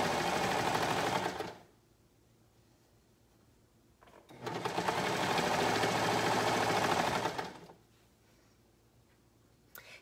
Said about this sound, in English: you can do curves pretty well on the serger, but I definitely want to reinforce the angles